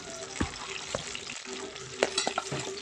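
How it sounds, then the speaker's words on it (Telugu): Green chillies sizzle steadily in hot oil for a tomato chutney, a close, continuous crackle broken by a few sharp stirring knocks against the pan. "దీన్ని బాగా వేయించుకొని పక్కకు పెట్టేసుకోవాలి"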